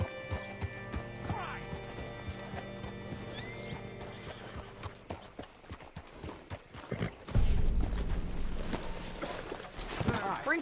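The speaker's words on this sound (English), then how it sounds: "Hitch your horse up here." Horse in the Red Dead Redemption 2 video game, with clopping hooves and a loud whinny partway through, set among game sound effects and music, with a voice speaking over part of it.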